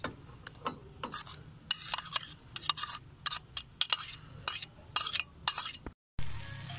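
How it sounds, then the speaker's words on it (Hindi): Onion and tomato paste goes into hot ghee in a karahi for chicken karahi, giving a run of sharp sizzling bursts and stirring clicks, irregular and close, with a short pause near the end. "ये हमने 2 प्याज और 1 टमाटर का पेस्ट बना लिया था, वो हम इस गरम घी में शामिल करते हैं"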